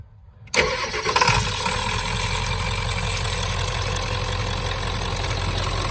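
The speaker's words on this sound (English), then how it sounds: "So we're gonna start it up." A car engine with a suspected leak cranks briefly, catches and settles into a loud, steady, close idle that rumbles on without a break.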